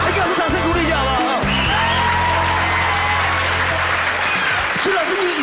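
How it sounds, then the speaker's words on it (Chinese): A studio audience claps and cheers during a variety talk show about a dance showdown, applause swelling with a few whoops. A host's voice carries over the clapping near the start, and the crowd noise fades toward the end. "给我们掌声鼓励一下好不好"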